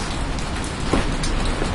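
Heavy rain pours outside a London hotel room door, a dense continuous hiss of downpour heard up close, loud and steady for the whole moment.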